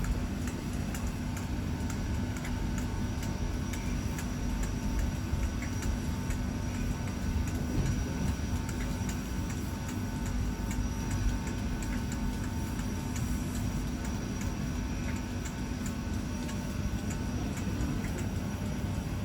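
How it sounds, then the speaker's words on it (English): Two LNER Class 91 electric locomotives depart together in a steady, dense mechanical drone with a faint rhythmic ticking running through it, continuous and fairly distant. "Two Class 91s departing at the same time certainly makes for an impressive sound despite being electric."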